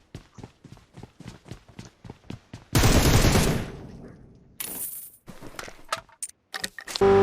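Rapid bursts of game gunfire, first a run of evenly spaced single shots, then a loud sustained blast and scattered later shots.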